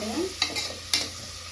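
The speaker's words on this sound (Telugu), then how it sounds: "ఆనియన్స్ మంచిగా ఫ్రై అయిపోయినాయి" Onions fry in a pan with a steady sizzle, punctuated by two quick spatula scrapes, close up.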